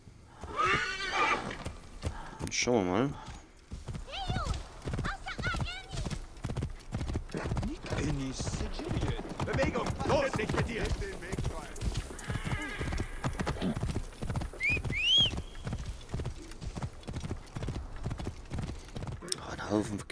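A horse in the Assassin's Creed Origins video game clip-clops in steady hoofbeats and whinnies loudly at the start, with someone talking over the hooves.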